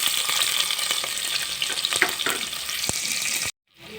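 Two big onions, sliced lengthwise, frying in a pan for Thangai Pal Kuzhambu, a loud, close, crackling sizzle with a few sharp pops that stops abruptly near the end, with no one speaking.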